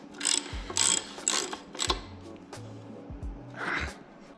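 A bottom bracket is worked into the sketchy, greased threads of a dirt jump bike frame with a ratcheting tool, making several close bursts of rapid clicking as it is turned back and forth, mixed with faint breathing.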